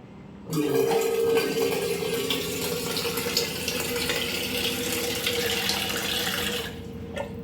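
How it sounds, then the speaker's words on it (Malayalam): Water is poured into a pot of homemade ghee to wash it, a steady, loud splashing gush that runs continuously for several seconds before cutting off, with no talking. "അപ്പോൾ ആ വെള്ളം കളഞ്ഞ് നമുക്ക് കുറച്ച് വെള്ളം കൂടെ ഒഴിച്ച്"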